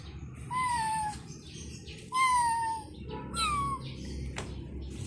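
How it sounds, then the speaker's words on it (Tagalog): A cat meowing in a house, three distinct drawn-out falling meows spaced a second or so apart over a low background hum. "Kasama yung pusa."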